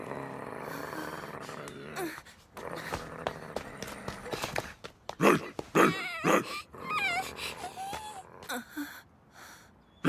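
A dog in an anime movie whimpers and lets out short, high yips, a cluster of squeaky whines rising near the middle and trailing off, heard close over a busy, noisy soundtrack with scuffling movement.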